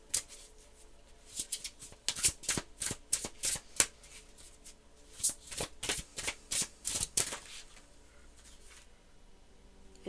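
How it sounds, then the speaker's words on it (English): Oracle cards are shuffled by hand in a quiet room, a run of crisp riffling bursts in two quick clusters, close and fairly soft, with no talking. "Let's get an oracle card from the Wandering Soul Oracle."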